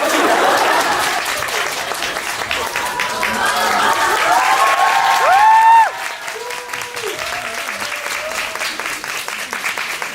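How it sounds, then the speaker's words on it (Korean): Audience applause at a Korean theater talk-back event as the director and actors come on stage, dense clapping that swells and then fades, with people speaking and laughing over it. "자, 박수 부탁드립니다."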